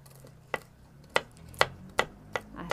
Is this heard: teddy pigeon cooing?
no